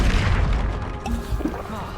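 A Depulso spell cast in the video game Hogwarts Legacy, heard as a dense, booming magical blast with rumbling low impacts and swirling effects throughout, set amid continuous game sound.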